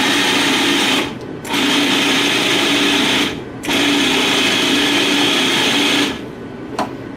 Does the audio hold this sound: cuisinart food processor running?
yes